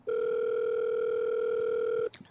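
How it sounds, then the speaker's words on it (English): A telephone line ringing while a caller waits for someone to answer: one steady, loud electronic tone held for about two seconds, then cut off by a short clatter. "Silence follows while I wait for her to pick up, the ringing going far too long for my taste."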